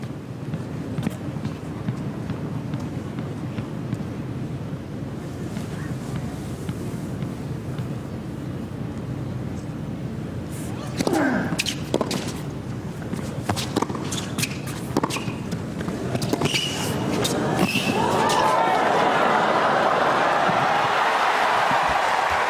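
A tennis rally between Nadal and Monfils at the 2014 Qatar ExxonMobil Open, with faint ball strikes under low arena murmur, then sharp hits trading late in the point before the crowd breaks into loud applause and cheering.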